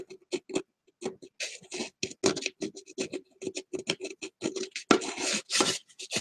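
Pattern paper is scraped off a gourd in short, dry, rasping strokes, each a brief close scratch with quiet gaps between, in an irregular rhythm.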